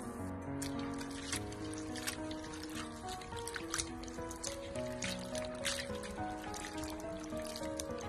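Bean sprouts are rinsed in a basin of water, giving close, continuous splashing and trickling with small sloshes and drips throughout, while faint music plays underneath.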